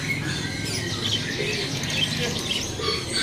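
Parakeets and other caged birds at a bird market chirp and squawk continuously, a busy layered chorus of tweets over a low background hum.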